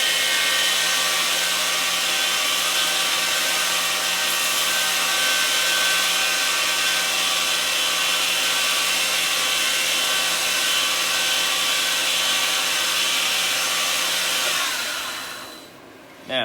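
A bench grinder wheel reprofiles the broken tip of a knife blade, giving a steady loud whirring grind with a sustained hum that holds for about fourteen seconds before spinning down and stopping near the end.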